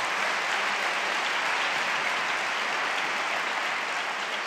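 A congregation at an evangelical church service claps together in a loud, dense, continuous burst of applause that stays steady from start to finish, with no voices.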